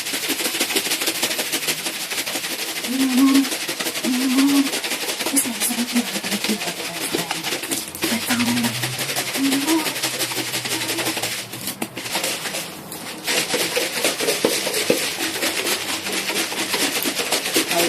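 A closed container is shaken hard by hand to whip an iced latte, producing a dense, fast, continuous rattling and sloshing that runs steadily for a long stretch with only brief dips.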